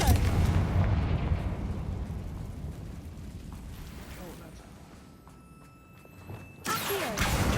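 Confringo blasting spell exploding in Hogwarts Legacy, a rumbling boom that fades over several seconds before another burst near the end, with game ambience throughout.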